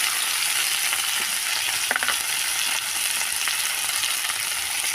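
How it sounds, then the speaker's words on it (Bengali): Food fries steadily in a pan with turmeric and salt, a constant loud sizzle with a few brief scraping stirs partway through, heard close up with no voices. "ভালোভাবে ভেজে নেব একটু হালকা করে।"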